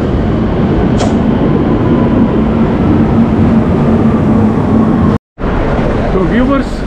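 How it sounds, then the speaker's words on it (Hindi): Loud rushing rumble of a metro train arriving at a Barcelona station, with a faint squeal of wheels near the end and a brief dropout. "ये मेट्रो आ चुकी है।"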